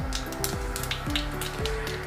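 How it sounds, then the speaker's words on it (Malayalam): Mustard seeds and three dried chillies sizzling in hot coconut oil, giving a soft continuous crackle with scattered pops, set under a quiet melodic tune. "കടുക് പൊട്ടി വരുമ്പോഴത്തേക്ക് ഒരു 3 ഉണക്കമുളക് ഇട്ട് കൊടുക്കുന്നുണ്ട്"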